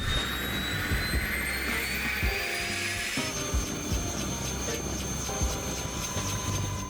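A turbine helicopter's engine whines steadily with a high rising tone and the rotor's thrum beneath, close and continuous, with faint voices under it.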